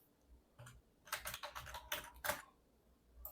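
Keys clatter on a computer keyboard in short quiet bursts of rapid tapping with brief pauses between them.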